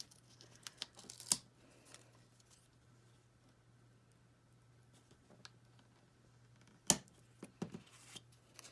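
Paper is trimmed with scissors at a crafting desk, quiet and close, with a couple of crisp snips separated by soft rustling and near silence.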